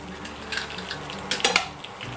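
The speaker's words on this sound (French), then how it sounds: "Voilà, et donc là on va cuire le roux." Butter and flour roux cooking in a pan for a thick white sauce, with a few short clinks and scrapes of a utensil against the pan over a low background hiss, no talking.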